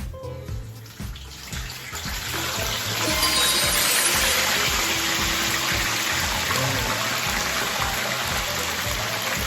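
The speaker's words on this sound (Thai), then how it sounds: "หลังจากที่เราเอาปลาลงกระทะเรียบร้อยแล้วนะครับผม ให้ใช้ทอด ด้วยไฟกลางนะครับผม" Whole tilapia fish frying in hot oil in a pan over medium heat produces a dense, loud, continuous sizzle and crackle that swells after the first couple of seconds and then holds steady.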